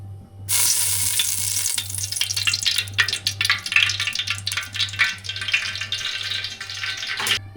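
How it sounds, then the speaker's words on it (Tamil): Cinnamon and other whole spices hit hot oil in a pan, bursting into a loud, steady sizzle after half a second, with stirring scrapes and crackles running alone to the end. "எண்ணெய் நல்லா சூடாயிடுச்சு பட்டை வகையெல்லாம் சேர்த்துக்கலாம்"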